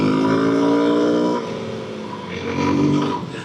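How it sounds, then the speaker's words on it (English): Suzuki DRZ400S single-cylinder engine pulling in third gear with the clutch slipping, a steady buzzing drone that dips in pitch, then swells again as the bike keeps rolling. "So I'm in third here and I'm slipping the clutch, keep it moving."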